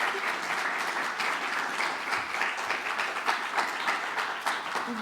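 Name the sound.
audience applause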